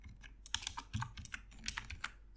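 Rapid clicking keystrokes on a computer keyboard while code for a Laravel Ajax dropdown is typed, a close, uneven burst of taps with short pauses between key clusters.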